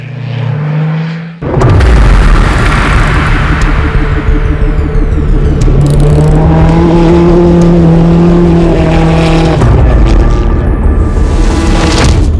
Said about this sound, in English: Looking in much better shape, two Toyota Land Cruisers to show you now.